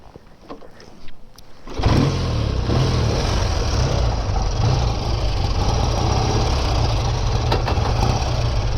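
Vintage BSA A10 650 motorcycles being kickstarted: a few faint clanks and rustles, then an engine catches and settles into a loud, steady, throbbing idle close by.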